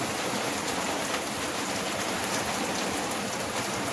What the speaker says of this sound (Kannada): ಮಳಿ ಮಳಿ ಮಳಿ ಒಮ್ಮೆ ಬಂದು ಒಮ್ಮೆ ಹೋಗ್ಬಿಡ್ತೈತಿ.